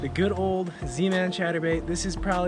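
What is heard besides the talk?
No everyday noises stand out.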